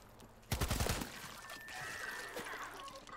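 Gunfire in the video game World War Z, a sudden burst of rapid shots followed by a quieter tail of game sounds, fairly faint overall.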